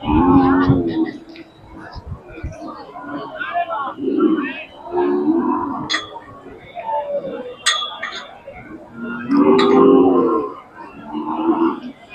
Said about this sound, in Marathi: या दोन गायी आहेत बघू शकतात